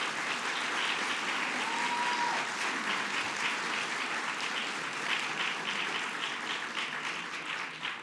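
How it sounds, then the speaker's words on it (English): An audience at a celebration honoring newly elected city council members gives a sustained round of applause, thick and even clapping from a large crowd heard from a moderate distance throughout. "Let's give them all a round of applause."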